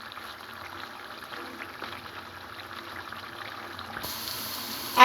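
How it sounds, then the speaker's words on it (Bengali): Water is poured into a cooking pot of duck curry, heard as a soft, bubbling liquid trickle that grows slightly louder before a sharp burst at the end. "এবার আমি সামান্য পানি দিয়ে এটাকে ঝোলের পানি দিয়ে দিব।"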